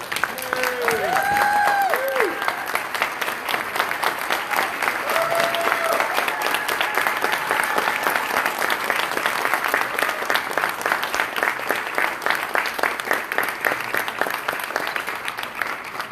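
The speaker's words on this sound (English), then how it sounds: "I want you all to please give a standing ovation for Faith Moreno" Steady, dense applause fills a gala hall as an audience gives a standing ovation, with a few brief whistles or voice tones near the start, continuous and even throughout.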